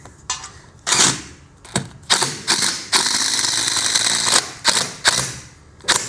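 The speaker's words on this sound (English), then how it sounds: "That helps keep the drill off the post while we're driving them, the fasteners in." A drill drives FastenMaster LedgerLOK screws into a wooden deck post, with short bursts and one sustained whirring run, loud and close, mixed with clicks and handling noise.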